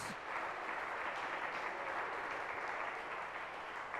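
Steady applause from the audience at an ETTU Cup table tennis match in Glasgow, honouring the referee and umpires, a dense even clapping that holds at a constant level throughout without any talk.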